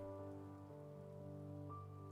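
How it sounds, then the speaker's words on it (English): Steady rain falls in the Heavy Rain video game, a soft continuous patter with a low sustained tonal hum underneath, even and unbroken throughout. "Lots of rain."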